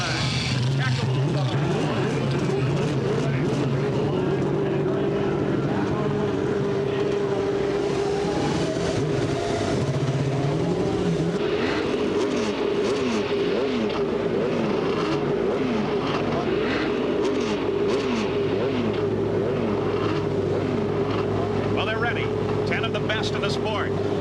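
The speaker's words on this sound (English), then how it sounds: "Gentlemen, start your engines." Several 1989 CART Indy race car engines fire up and rev together at the Marlboro Challenge, a loud, dense roar of rising and falling engine pitches throughout, with a commentator talking over it.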